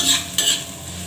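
Spices and chopped ginger frying in a pan for eggplant bharta, a close, continuous hissing sizzle with one quick stir partway through.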